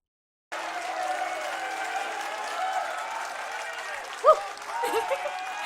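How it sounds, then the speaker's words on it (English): Crowd noise at a concert, a continuous roar of applause and voices that starts abruptly and holds steady, with a couple of brief louder shouts near the end. "I can hear the crowd."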